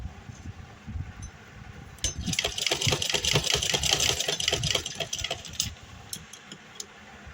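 A sewing machine runs in a home, quiet at first and then a steady fast rattle of stitching for a few seconds before slowing and stopping, with low room noise beneath.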